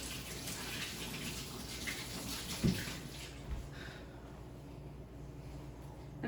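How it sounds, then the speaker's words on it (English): Running tap water rinses hands at a kitchen sink while making cheesecake, a steady soft wash of water with a few brief splashes, fairly quiet and heard alone. "Just gonna rinse off my hands."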